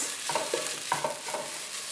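Green chilies sizzle and fry in hot oil in a pan, a steady, close crackling hiss punctuated by a few rhythmic scraping stirs.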